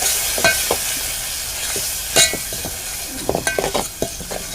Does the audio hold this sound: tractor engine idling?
no